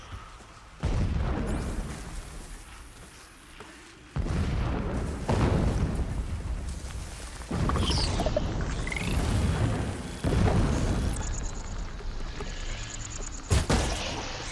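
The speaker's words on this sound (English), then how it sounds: "What are those explosions?" Heavy booming blasts in Horizon Zero Dawn Remastered, several in a row with sudden loud onsets, broad rumbling bursts and a brief sharp crack near the end.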